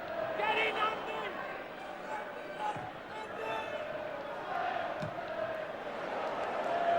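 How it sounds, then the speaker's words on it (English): A football crowd of just under 19,000 at an FA Cup fifth-round match between West Bromwich Albion and Norwich City roars and whistles, urging the referee to end the game, a broad steady din with commentary over it. "The crowd imploring the referee to blow the final whistle"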